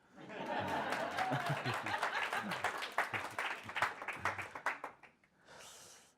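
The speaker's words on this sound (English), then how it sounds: "Pause for applause." A conference audience gives a few seconds of scattered applause mixed with some chuckles and voices, and the clapping thins out toward the end.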